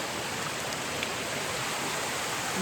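Steady rain falls at a night campsite, an even dense wash of drops with no breaks, close and constant and without any talking.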